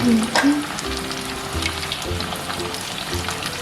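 Pork sizzles and crackles steadily in hot oil, a dense close-up frying hiss with a faint background tone.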